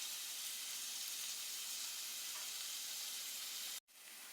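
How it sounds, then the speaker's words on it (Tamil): Onions sautéing in a pan: a steady, dense hiss of frying, close and even throughout, cutting off abruptly near the end before resuming more faintly, with no voices. "ஆனியனுமே நல்லா வதங்கட்டும்"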